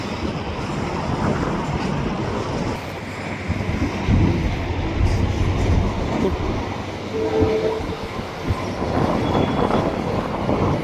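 Freight train cars being pulled back near Sapperton station, a continuous rumbling roll with rattling wheels and a faint horn-like tone, steady and fairly loud outdoors.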